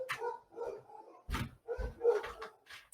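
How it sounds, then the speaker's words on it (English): Dogs bark indoors at home: a faint, distant run of repeated barks and yips in an uneven rhythm, muffled as if behind a door. "My dogs are barking."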